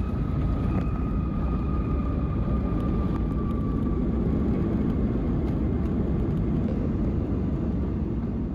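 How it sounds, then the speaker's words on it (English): Cabin of an American Airlines airliner descending into Dallas-Fort Worth, a steady loud engine and airflow roar with a faint high whine, constant throughout with no voices. "we were descending down into the Dallas-Fort Worth area and landing"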